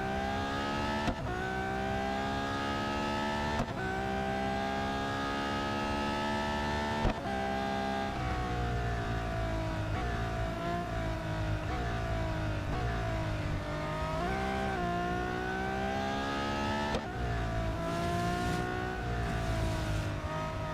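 A racing car engine in the video game Real Racing 3 revs loudly and continuously, climbing through the gears with sharp shifts every few seconds and repeated dips and surges in pitch as the car brakes and accelerates.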